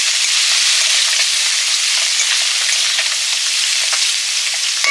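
Chopped bottle gourd peels fry in hot oil with turmeric and green chilli, giving a loud, steady sizzle and hiss that never lets up, close and without talk.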